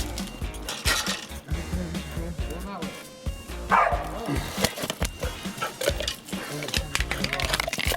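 A dog barking and yipping in short excited bursts near a fishing spot, close and fairly loud, mixed with people talking over it.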